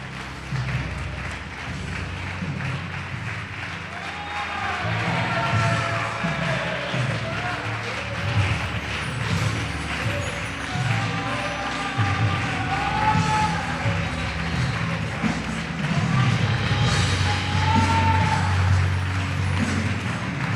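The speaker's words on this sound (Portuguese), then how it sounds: "Você pode aplaudir Jesus por isso?" A church congregation at a Portuguese-language service applauds and cheers throughout, a dense crowd wash of clapping with shouts and whoops rising over it, fairly loud and sustained, with musical tones sounding underneath.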